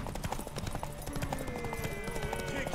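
Horse hooves in The Witcher 3 video game, a busy clip-clop rhythm running under dense game sound, with some short vocal sounds mixed in.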